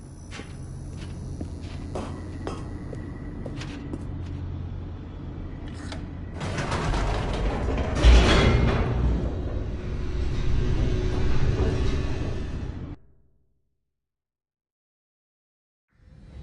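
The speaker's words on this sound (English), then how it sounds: "The elevator raced downward, plummeting towards an unknown fate." An elevator in the video game The Stanley Parable descends with a steady low rumble and mechanical whir, a brief heavier clunk partway through, then abrupt silence near the end as the motion stops.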